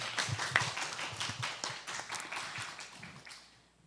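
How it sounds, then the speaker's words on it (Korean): An audience claps to welcome a professor to the stage at a webinar forum on lifelong learning, with scattered, moderately quiet applause over about four seconds that fades out at the end. "힘찬 박수로 맞아주시기 바랍니다."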